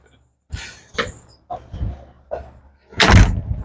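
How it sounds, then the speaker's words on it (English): A door being shut indoors: a few scuffing handling sounds, then one loud, close thud near the end. "I gotta close the door."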